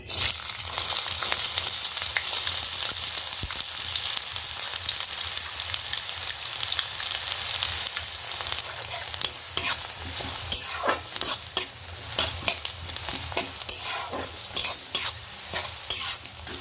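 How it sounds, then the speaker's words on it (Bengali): Chopped onions with a spoonful of sugar frying in oil in a wok give a continuous loud hiss and sizzle, with sharper spoon scrapes and clicks from stirring growing more frequent toward the end. "পেঁয়াজ কুচিটা দিয়ে দেবো।"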